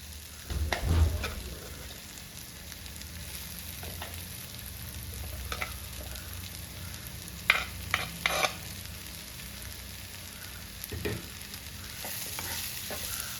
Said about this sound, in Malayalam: നമുക്ക് വേവിച്ച് വെച്ചിരിക്കുന്ന ചക്കക്കുരു ഇതിനകത്തിട്ട് ചേർത്ത് കൊടുക്കാം